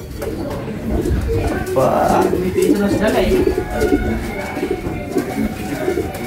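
Pigeons coo under a steady outdoor murmur, with low soft calls mixed into the background noise, fairly close, while a person speaks briefly.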